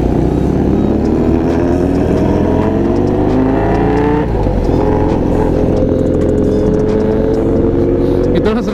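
A BMW R90 boxer motorcycle engine revs loudly and steadily up close, its pitch climbing and holding as the throttle is worked.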